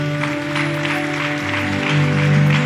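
Congregation at a Spanish-language church vigil applauding, a steady wash of clapping with sustained tonal notes, probably instruments, running underneath throughout.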